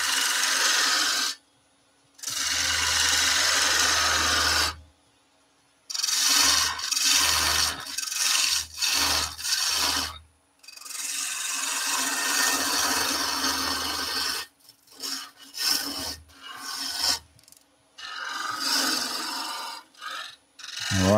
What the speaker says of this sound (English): And I'm using a spindle gouge.